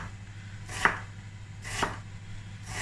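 A knife chops hot dogs on a cutting board, giving three crisp, evenly spaced thuds, close and fairly quiet, with no one talking.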